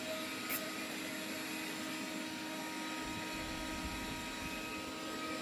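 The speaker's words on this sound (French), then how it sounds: "Bon, aspirateur, est-ce que tu vas aller te coucher?" A vacuum cleaner, apparently a robot unit, runs in a room with a steady whirring drone and whine at moderate distance, with no voices and only a small click near the start.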